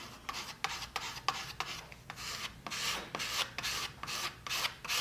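Paint being pushed through a stencil screen onto a DIY serving tray, heard as repeated raspy rubbing strokes, close and fairly steady with brief pauses between passes, no voices.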